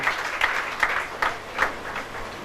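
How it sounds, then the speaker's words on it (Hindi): An audience at a ration kit distribution event applauds, producing a short stretch of clapping that rises and falls in uneven bursts at moderate distance. "उनके लिए जोरदार तालियां हो जाए"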